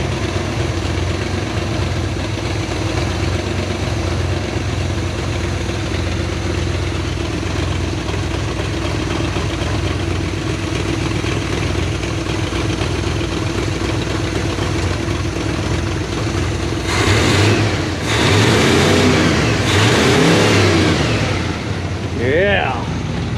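A 1975 Chevrolet K10 truck engine with a four-barrel carburetor idles steadily, close and loud, then revs up in a few rising swells near the end while people talk.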